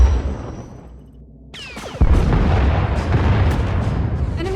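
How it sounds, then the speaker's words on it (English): An enemy Thranta-class warship fires turbolasers and missiles in Star Wars: The Old Republic, a sudden heavy boom followed by a dense, roaring barrage of blasts and rumbling space-battle noise that sustains loudly. "Enemy is firing. Turbo lasers, missiles, and what looks like transport pods."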